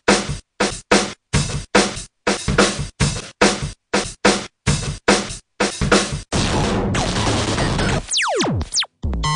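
Chopped drum hits from a drum loop, separate kicks, snares and hi-hats played one by one in a steady stuttering rhythm of loud, close, punchy bursts with short gaps, then a denser continuous roll of hits and a brief swooping sweep at the end.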